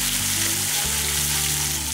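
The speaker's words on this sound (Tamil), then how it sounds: "இதெல்லாம் நல்லா வதங்கிட்டு இருக்கட்டும்" Drumstick leaves and curry leaves sauté in a pan, giving a continuous loud sizzle with a low steady hum beneath it.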